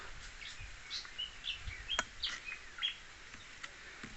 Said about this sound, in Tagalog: Pakinig nyo yun, yung ibon. Kumakanta.